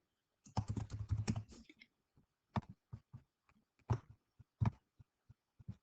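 Keys tapped on a computer keyboard in short bursts, a dense flurry of clicks followed by scattered single keystrokes with pauses between them, close and clear in an otherwise quiet room.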